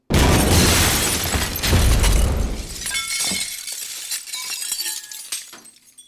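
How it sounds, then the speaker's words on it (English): A loud crashing blast throws out a dense spray of rock debris, then rattling fragments and clinks trail off over several seconds into a fading scatter. "Explosion rock debris."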